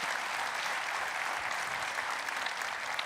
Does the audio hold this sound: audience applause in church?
yes